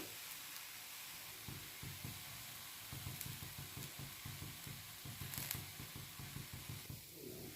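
Dosa batter cooking in oil on a hot pan gives a steady sizzle, with soft rhythmic tapping and scraping through the middle and a brief brighter burst of hiss near the end; no one speaks.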